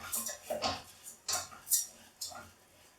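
Risotto rice being stirred in butter and oil in a pan, with several distinct scraping, clattering strokes of a utensil against the pan in an irregular rhythm, close and fairly clear.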